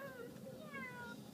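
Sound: child imitating a cat meow

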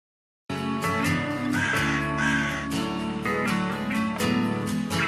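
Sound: crow cawing in fan film

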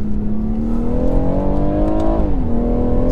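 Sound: BMW M140i launch acceleration

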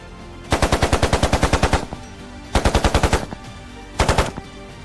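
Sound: gunfire sound effect in audio story

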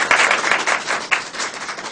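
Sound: audience applause

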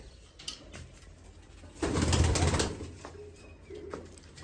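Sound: pigeons cooing

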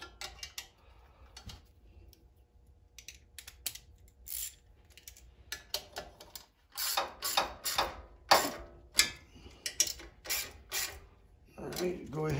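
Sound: tightening nuts on PowerBoss 5250 generator

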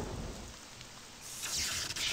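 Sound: rain and thunder in a horror video game

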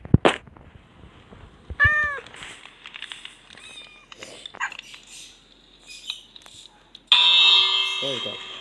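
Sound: cats meowing in video game Minecraft

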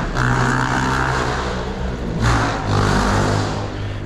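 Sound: noisy motorcycles passing in the street

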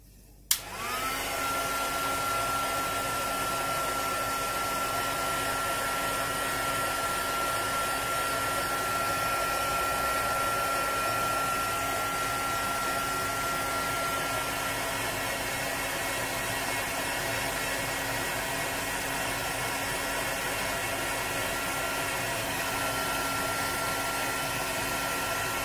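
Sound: heat gun heating shrink plastic

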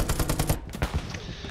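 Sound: machine gun fire in Hell Let Loose video game

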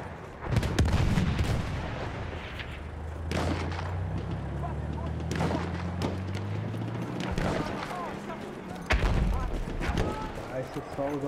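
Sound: artillery fire in the video game Battlefield 1

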